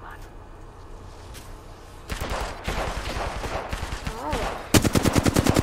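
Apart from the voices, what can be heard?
gunfire in Apex Legends video game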